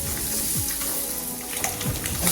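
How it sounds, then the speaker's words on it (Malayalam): Eggs frying gently in a pan with pepper, a soft crackling sizzle with watery hiss and faint kitchen clinks, steady and low, no talking. "ചെറുതായിട്ടൊന്ന് ഒന്ന് ഫ്രൈ ചെയ്തെടുക്കാം"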